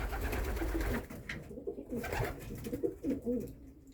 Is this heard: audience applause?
no